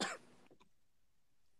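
A single short, faint cough or throat-clear at the very start, followed by near silence.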